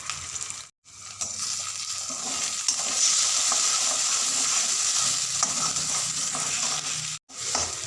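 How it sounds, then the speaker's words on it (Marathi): An egg sizzles and fries in a hot pan for egg Maggi noodles, a steady close crackling hiss with stirring that runs almost the whole time and drops out briefly twice. "त्यामध्ये हे अंडे फोडून टाकायचे आहे"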